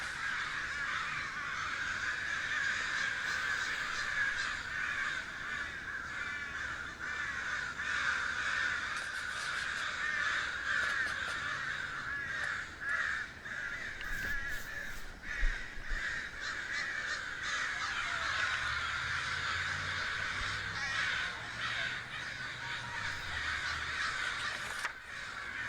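A flock of crows cawing wildly and continuously, many overlapping harsh calls at moderate distance, with no talking over them.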